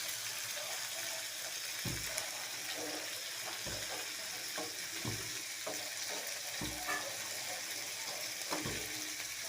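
Small tangra fish sizzle steadily in hot oil, a dense continuous frying hiss with periodic stirring scrapes and clatter, close and alone without talk.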